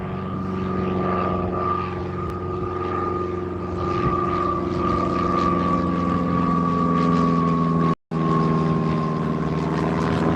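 A small propeller plane's loud, buzzing engine drones steadily nearby at Newcastle Airport in crosswind conditions, its steady pitch holding throughout with a momentary dropout near the end.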